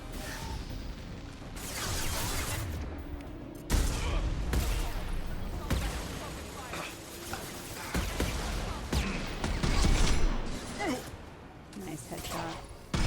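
Mass Effect combat with a steady barrage of loud weapon fire, impacts and crashes, dense throughout with brief sharp spikes, under frequent talking.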